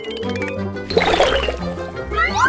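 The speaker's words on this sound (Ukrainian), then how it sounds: "Давайте заліємо ємність повністю. Ось так. Заливаємо." Liquid is poured to fill a container during a kitchen cooking challenge: a short burst of splashing, gurgling pour over steady tonal background sounds, with no talking.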